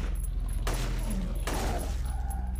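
Two loud gunshots, about a second apart, fired in the video game Silent Hill 3, over a steady low hum.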